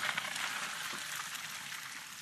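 Cooked scallion noodles being drained, a steady rush of water pouring out through a strainer with a broad splashy hiss running continuously and fairly close, no voices.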